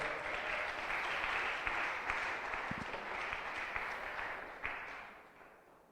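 Congregation applauding during a church sermon, a steady dense wash of clapping from a crowd that holds for several seconds, then thins and fades toward the end.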